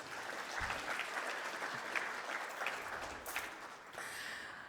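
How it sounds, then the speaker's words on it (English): An audience applauding at a hall of fame induction ceremony, a sustained, even wash of clapping from many hands that fades slightly toward the end. "let's give them a round of applause for this evening"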